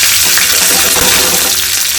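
Mustard seeds, cumin, dried red chilli and turmeric sizzle in hot oil as a tempering for chutney, making a loud, continuous close-up crackle and hiss throughout.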